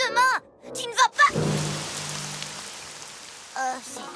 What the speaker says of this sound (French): Enfin, cette pluie de chocolat au lait.